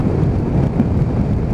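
Biting cold wind, about two degrees, buffets the microphone outdoors in Scotland, a loud, steady low roar that rumbles without pause through the whole short stretch.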